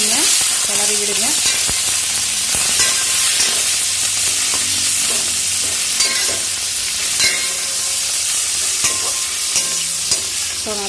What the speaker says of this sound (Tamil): சிம்மில் வச்சு அப்படியே நீங்கள் கிளறி விடுங்க.